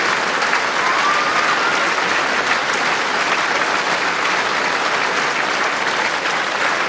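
An indoor crowd at the 2016 World Bowls Championship final applauding a new world champion, Nick Brett, sustained loud dense clapping from many hands, continuous and even throughout.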